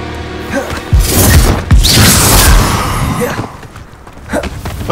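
A Confringo spell explosion in the Hogwarts Legacy game lands as heavy, loud booms and whooshing blasts with low thuds, fading into quieter rumble and small impacts afterward.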